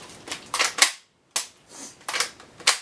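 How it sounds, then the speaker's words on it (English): Nerf toy blaster made in China, firing with the slide's return spring snapping back: several sharp plastic clacks and rattling bursts in uneven clusters, close and fairly loud, with a brief silent gap midway. "that is not me dry firing. That's the fire. That is the return spring on the slide"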